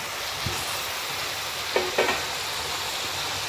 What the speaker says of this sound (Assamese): এতিয়া এনেদৰে মছলাৰ সৈতে আলুখিনি ভাজি লৈছোঁ